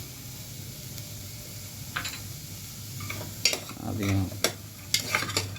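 Beans and vegetables stirred in butter in a pan for vegetable soup, with a soft background sizzle, scattered utensil scrapes and a louder stirring burst near the end, one brief spoken word.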